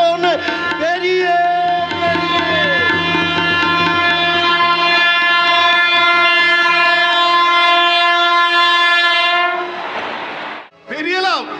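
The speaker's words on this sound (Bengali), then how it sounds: "পেরিয়ে এলাম কত স্টেশন পেরিয়ে আমি আমার ভগ্নী স্টেশন মানে আমার বোনের মতো ভারতীর বাড়ি স্টেশনে নেমে পড়লাম" A train sound effect opens with a loud, sustained, multi-tone horn blast lasting about nine seconds over a rolling rumble, then fades to a rushing whoosh and a brief final burst.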